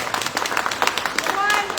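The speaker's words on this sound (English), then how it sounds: "Big round of applause." An audience applauds at a memorial celebration of a woman's life, with a brief burst of scattered claps that mixes with voices and crowd noise throughout.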